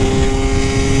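A Yamaha YSR50 mini street bike engine running with no airbox and a new exhaust, a loud, close, steady buzzing drone filling the whole moment.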